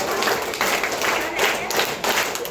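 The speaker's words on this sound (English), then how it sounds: "Give a claps to Dimple." Students at a school assembly break into a brief burst of steady, dense applause, loud and close, filling the whole moment without any voices on top.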